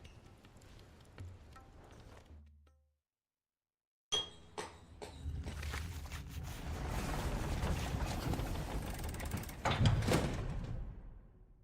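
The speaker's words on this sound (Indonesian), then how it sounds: "Ini mesinnya tuh." Machinery clanks and grinds in the Final Fantasy 16 video game, with a brief silence before metallic clicks, sliding mechanical rumble and chinking parts rise into a steady, fairly close whirring clatter.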